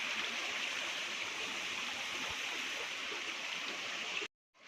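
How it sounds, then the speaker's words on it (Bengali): A steady, rushing waterfall pours into a stream, a constant bright hiss of falling water close by, cutting off abruptly near the end. "এই যে ঝর্ণাটা বলছিলাম যে আসছে, হ্যাঁ হ্যাঁ, এই যে ঝর্ণার জলটা"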